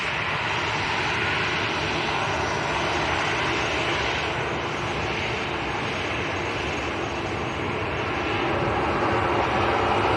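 A KLM airliner at Manchester Airport, heard as a loud, continuous roar of jet engines that stays steady and close throughout, with no voices over it.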